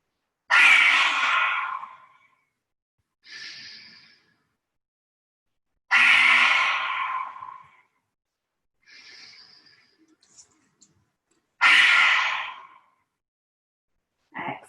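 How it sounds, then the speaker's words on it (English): Three strong, breathy yoga exhales of lion's breath with the tongue stuck out, each about a second and a half long and spaced several seconds apart, separated by softer inhales in a quiet room. "If you'd like to do lion's breath, as you exhale, poke your tongue out as far as it will go"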